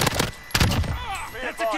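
Gunfire in a Call of Duty video game: a few loud, sharp shots crack at the start, then fade out as a voice speaks.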